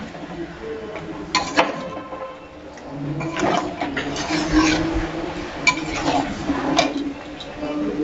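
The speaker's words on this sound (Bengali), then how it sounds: "অল্প অল্প করে গরম জল দেব আর ভালো করে আর একটু কষিয়ে নেব।" Gila tengri, mutton pieces, is sautéed in a pan with small splashes of hot water, a spoon scraping and clinking against the metal in uneven bursts over a steady sizzle, close by.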